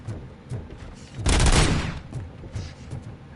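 A rapid burst of assault rifle fire from the RoboCop: Rogue City video game erupts in the middle, loud and dense for about half a second, with a softer rattle of shots before and after.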